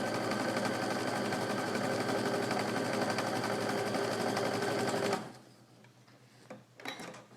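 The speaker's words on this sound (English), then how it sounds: "I'm just going to sew down that line" A sewing machine runs in a steady, fast whir for about five seconds while stitching quilt pieces along a marked line, then stops abruptly, leaving soft handling sounds.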